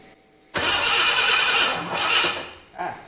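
A Ford Capri 2.8 engine cranks and catches with a loud burst, runs roughly for about two seconds and briefly dies, then coughs once more, heard close with no talking.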